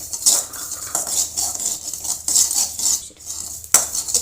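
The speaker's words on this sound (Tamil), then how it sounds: "இப்போ கசகசாவை நம்ம நல்லா வறுத்து எடுத்துக்கலாங்க" Poppy seeds rattle and hiss in a hot metal pan as they are dry-roasted and stirred, with scraping and clinking of a utensil, close and steady, with no voices.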